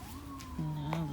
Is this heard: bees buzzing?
no